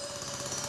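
Continuous grinding drill rumble from the LEGO Rock Raiders video game, a steady mechanical buzz with a faint whine held throughout and swelling slightly at the end, with no voices.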